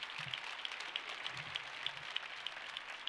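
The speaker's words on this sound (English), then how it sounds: "So can we get one more round of applause for all the people that made this possible today?" A crowd at a downtown civic celebration applauds in a steady, faint patter of many hands, heard from a distance with a few sharper claps standing out and no talking.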